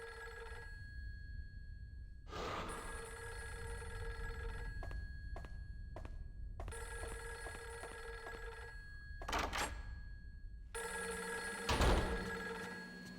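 Telephone ringing in the horror game Fatal Frame III, repeated bursts of a bright electronic bell ring separated by short pauses, moderately loud over a low ambient hum, with a thump near the end.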